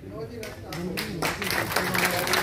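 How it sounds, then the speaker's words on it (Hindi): Applause from an audience in an auditorium during a journalism day event, a steady wash of clapping that swells toward the end while a voice talks over it. "तो बस मैं चाहूंगा यही कि यही तालियों का सिलसिला चलता रहे।"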